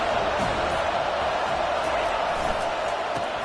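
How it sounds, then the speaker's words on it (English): A college football game crowd produces a dense, steady roar of noise throughout, loud and continuous, with no distinct breaks. "This crowd bringing the energy and noise early."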